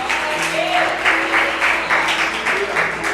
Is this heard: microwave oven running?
no